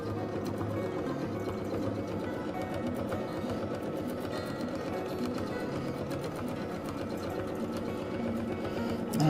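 A sewing machine stitches free motion quilted feathers, a close, steady rapid needle chatter running continuously with slight changes in pace.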